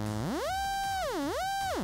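A synthesizer oscillator whose pitch sweeps smoothly up, holds, dips down and climbs back again, a bright, buzzy, harmonic-rich tone sounding alone at steady loudness.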